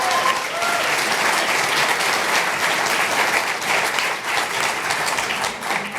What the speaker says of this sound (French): je veux encore une fois qu'on l'applaudisse, Alexia Goretti